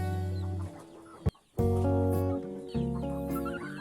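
Chickens clucking and squawking close by, dense overlapping calls from several birds with a brief pause in the middle, loud and steady with no talking.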